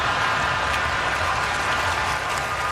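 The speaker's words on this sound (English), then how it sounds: "I don't believe that's real crowd noise." Broadband crowd noise from an audience reacting to a joke on a sports talk radio show, a steady wash of applause-like roar at constant level for a few seconds with no talk over it.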